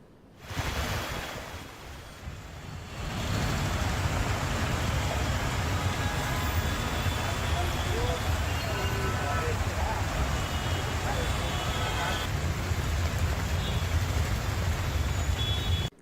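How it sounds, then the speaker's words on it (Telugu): Heavy downpour in Hyderabad, a dense, steady roaring wash of rain that swells up in the first few seconds and then holds loud and unbroken, with a voice talking faintly beneath it. "హైదరాబాద్ లో భారీ వర్షం కురుస్తోంది."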